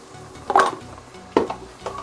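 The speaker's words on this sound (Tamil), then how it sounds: "ஹையில் வச்சு ஃப்ரை பண்ணுங்கள்." Chicken frying in oil on high heat in a pan, with a steady close sizzle broken by a few louder scraping stirs of a spatula.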